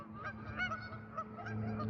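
Geese honk outdoors in a series of nasal calls that overlap and repeat, fairly close and steady, with a low background hum and no voices.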